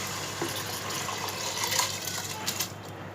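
Water is poured into a pot of soaked rice and toor dal, a steady splashing gush with small clinks, heard near and alone with no talking.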